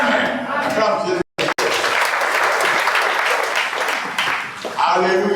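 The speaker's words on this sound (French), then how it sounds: "Acclame Jésus." A church congregation claps loudly and continuously during a French-language worship evening of teaching, with crowd voices mixed in and a brief dropout partway through.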